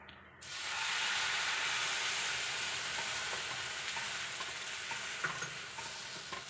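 A spoon stirs a banana mixture in a pan just after milk is added, making a steady sizzling, scraping hiss that stays loud and close throughout with a few small clicks, and no one speaks.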